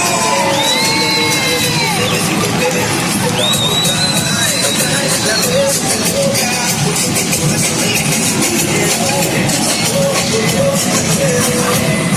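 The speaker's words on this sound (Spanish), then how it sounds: "Fuerte aplauso para esta gala de San Feliu." A carnival gala crowd in Sant Feliu de Guíxols roars continuously, loud and close, with cheering, shouting voices and whistles rising over the dense din.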